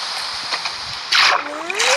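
Water placed in a block-building game, heard as a sharp splashing burst midway with a rising swoosh trailing after, over a steady background hiss.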